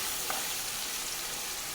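Spice-coated fish laid into hot oil over a low gas flame, a steady loud sizzle and hiss that fills the whole moment, close and continuous with no pauses.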